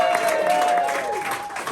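Comedy club audience applauding in a steady, dense wash of clapping that holds through the whole stretch with no clear break, while a faint sustained tone sits underneath.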